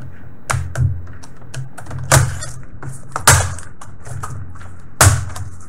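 Keyboard of an HP G60 laptop being pried off with a flat screwdriver: a handful of sharp plastic clicks and snaps at irregular intervals, close up, over a low steady background hum, with no talking.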